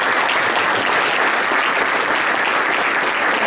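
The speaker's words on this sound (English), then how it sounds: "So let's give them a round of applause." A club meeting audience bursts into a dense, steady round of applause that stays loud and sustained throughout, with no voices rising above it.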